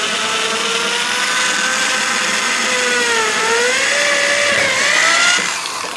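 A power drill whines steadily and loudly while drilling a tenoner part, its pitch wavering slightly as it bites into material, with no voices.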